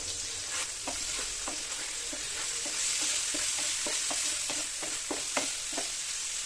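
Chicken fries in a pan with a constant hiss while a utensil stirs it, scraping and clinking at a fairly regular pace, close and moderately loud, with no voices.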